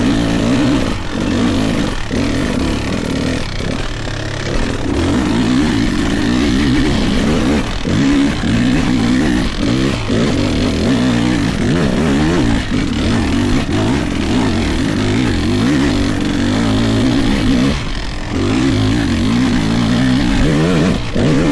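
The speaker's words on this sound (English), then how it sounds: "that 350cc 2-stroke engine is super fun to ride" A Beta RX350 two-stroke enduro motorcycle with a 350cc engine runs loud and close, its buzzy tone rising and falling as it is revved and ridden, with brief dips where the throttle eases.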